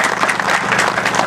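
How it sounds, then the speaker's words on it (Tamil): An audience at a 2015 general election campaign meeting applauds, a dense and loud patter of many hands clapping steadily from start to finish. "மீண்டும் உங்களது கரகோஷங்களை"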